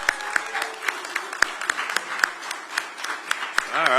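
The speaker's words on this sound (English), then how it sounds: "Give these recipients a round of applause" An audience at an Atlanta film industry grant ceremony claps for recipients, a thin scattering of individual hand claps rather than a full roar, with a voice coming in near the end.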